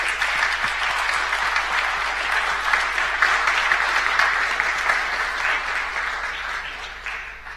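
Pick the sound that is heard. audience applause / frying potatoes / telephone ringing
audience applause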